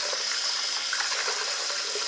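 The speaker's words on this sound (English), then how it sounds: "Okay, so I've got my water ran." Water gushes steadily from a tap into a bathtub being filled for a bearded dragon's bath, a continuous close rushing splash with no voices.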